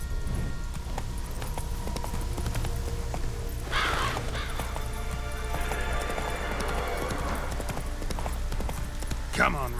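Horse hooves clip-clopping steadily as Roach is ridden in the Witcher 3 video game, a continuous trotting rhythm under game music and ambience, with a brief bird caw.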